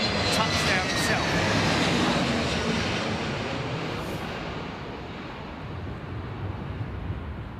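An airliner lands at London Heathrow Airport in a crosswind, its engines making a loud, steady roar that fades slightly toward the end.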